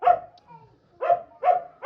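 Several dogs bark at a breeding kennel housing female dogs such as an Old English Sheepdog and a Samoyed, sharp close barks coming in bursts with short pauses between them.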